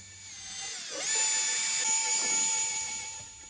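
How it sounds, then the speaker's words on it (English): A die grinder carves a mouth into a practice wood spirit carving, spinning up to a close, high-pitched whine that holds steady and then eases off slightly. "die grinder work."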